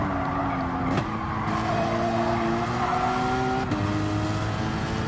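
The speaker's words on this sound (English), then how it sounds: "Sounds like a freaking racer now." A race car engine in Gran Turismo 7 drones continuously at close range, its pitch shifting with gear changes, with brief tyre squeal and skidding, and no talk over it.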